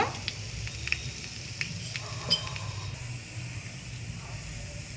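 An egg parota cooks in oil on a hot griddle pan, giving a steady, fairly quiet sizzle with a few small pops and crackles throughout.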